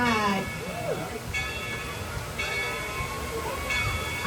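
The Dollywood Express #70 steam train pulls out of the depot, its heavy rolling rumble and clanking carriages steady and close, with a bell and people talking over the top.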